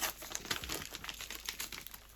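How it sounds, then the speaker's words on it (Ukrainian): Crinkly plastic rustling and crackling in quick bursts, close by, like a plastic mailer bag being pulled open, with no voices. "Далі ще один жовтий пакет. Відкриваємо."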